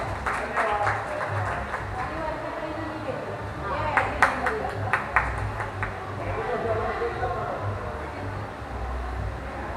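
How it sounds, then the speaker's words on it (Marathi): A group at a resort picnic claps, scattered sharp claps building into a short burst of applause amid a murmur of voices and steady background hum. "सगळ्यांनी जोरात टाळ्या वाजवा"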